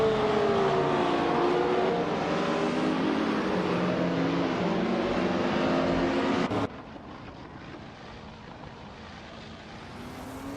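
Vintage ultralight race cars lap the Vallelunga circuit in a racing video game, engines droning steadily with shifting pitch as cars pass, the roar cutting to a quieter hum partway through.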